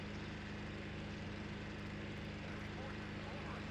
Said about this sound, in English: Alright, so we've got a chopper here.